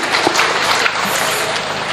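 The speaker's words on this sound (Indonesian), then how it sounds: "Tepuk tangan untuk beliau" A crowd applauding at a public religious gathering, a loud dense wash of clapping with a voice faintly mixed in underneath.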